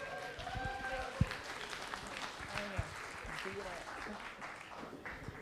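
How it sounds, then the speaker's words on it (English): Applause from an audience, steady clapping throughout with voices and crowd murmur mixed in, moderately distant. "Give Megan a round of applause."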